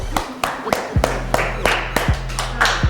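Audience claps for a contestant, Miss Bush, on a cooking competition show, a sparse run of distinct separate claps at a steady rhythm over a low musical bed, with a voice briefly heard.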